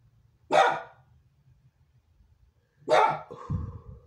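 A dog barks twice, each bark sharp and fairly loud in an otherwise quiet room, spaced about two seconds apart, with the second bark trailing into a lower rumbling growl.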